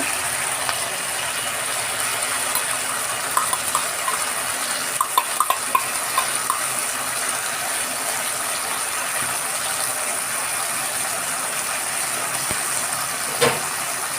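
Sauce poured into frying dry chilli chicken in a pan and stirred, a steady sizzle with scraping and clinking of the utensil against the pan, a few sharper knocks midway.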